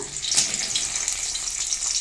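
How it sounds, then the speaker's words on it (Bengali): Ash gourd sizzles as it fries in a pan, a steady close hiss of oil holding level for the whole short stretch with no other sounds. "ছাঁচি কুমড়ো ভাজাটা হয়ে গেছে"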